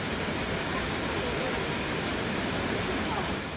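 An artificial waterfall about 20 m high in Seoul gives off a constant, dense roar of falling water, loud and unbroken from start to finish.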